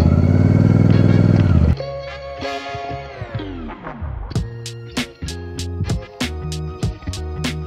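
A Royal Enfield Super Meteor 650 motorcycle starts with a loud, steady engine drone, then pulls away with shifting revs. After that come a series of sharp, evenly spaced clicks and knocks, close by, with no speech.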